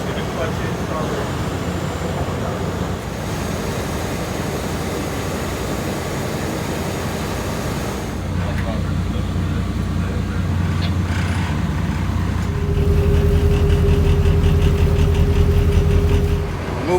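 A tugboat engine at a cruise ship dock construction site cranks over and fires, settling into a low, steady idle that steps up in loudness and deepens into a droning hum over a constant background rumble.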